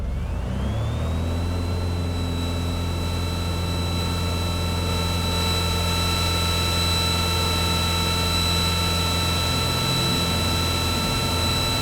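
A Cessna 180 Skywagon's engine runs up for a tail-low, flaps-20 takeoff, its loud steady drone rising in pitch during the first second and then holding a constant, close, unbroken roar throughout.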